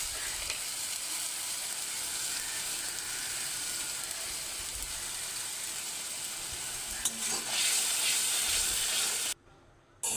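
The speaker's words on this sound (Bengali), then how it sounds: "সেটা কড়াইয়ে দিয়ে লবণ, হলুদ দিয়ে কষিয়ে নেব।" Ginger, cumin and green chilli paste fries with salt and turmeric in hot oil in a kadai, a steady close sizzle and hiss throughout, brightening near the end before cutting off abruptly.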